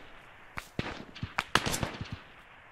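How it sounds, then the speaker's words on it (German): Gunfire in the WW2 mod Vindicta for Arma 3: a quick, irregular run of sharp shots and cracks, fairly close, over a few seconds with no talk. "Komm, wir gucken mal zu, wie gut er schießt."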